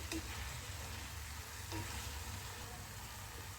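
Spinach sizzling and frying in a pan for crispy spinach bhakri, a steady low crackle with faint stirring scrapes, fairly quiet and alone.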